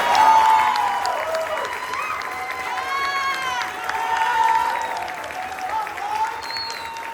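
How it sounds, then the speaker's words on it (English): A graduation audience at an Airman Leadership School ceremony applauds and cheers, a loud crowd swell of clapping and whoops that stays steady with music playing underneath. "Let's give him a round of applause."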